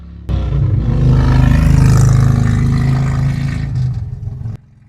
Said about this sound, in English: I hate gas-powered motorcycles. They're so loud.